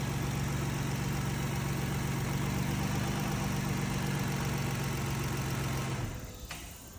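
A 2014 Ford Taurus engine idles steadily after a jump start, a loud, close, continuous low hum that holds for about six seconds before dropping off abruptly.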